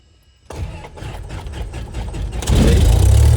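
A small propeller airplane's engine, still hot from a previous run, cranks and catches, building into a loud, steady roar with a deep low rumble close by.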